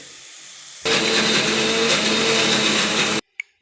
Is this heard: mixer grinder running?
yes